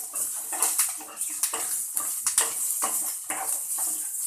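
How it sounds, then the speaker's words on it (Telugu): Okra frying in oil in a pan is stirred with a utensil, giving a run of close, irregular scraping clanks and clatters against the metal about every half second over a soft background hiss. "కొంచెం ఆయిల్ వేసుకోవాలి, కలుపుకోవాలి."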